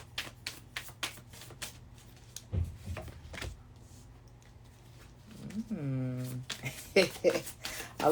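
Quick bursts of tarot cards being shuffled and riffled close by, with soft taps between and a brief hummed voice tone partway through.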